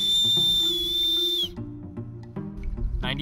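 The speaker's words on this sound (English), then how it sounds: "now the one-handed whistle" A loud, piercing one-handed finger whistle holds a steady high pitch for about a second and a half, then cuts off and leaves quieter background sounds.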